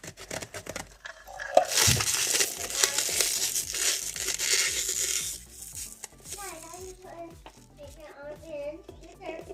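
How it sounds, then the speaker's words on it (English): Aluminium foil being scrunched and stuffed into a plastic McDonald's milk bottle, a close, bright crinkling and crushing that comes in bursts while a voice talks over and around it. "So I have to trim it down a little bit and then put more foil inside."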